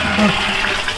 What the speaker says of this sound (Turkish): Yeter artık sifona basalım şöyle bir.